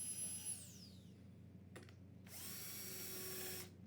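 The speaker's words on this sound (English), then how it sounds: "use a Vicks bit to pre-drill for my screws" A power drill fitted with a Vix bit pre-drills screw holes for a cabinet drawer hinge in a workshop, two short whirring bursts with a rising spin-up and a pause between them, fairly quiet and close.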